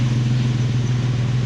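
A Porsche 911 engine idles steadily nearby with a continuous low, even rumble that never changes pace. It stays running alone, with no voices heard over it.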